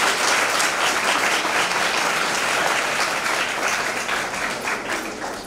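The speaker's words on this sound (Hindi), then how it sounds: "बच्चों, तालियां रुकनी नहीं चाहिए" Schoolchildren clap at a school award ceremony, a steady, dense round of applause that holds loud and even throughout and tapers slightly at the end.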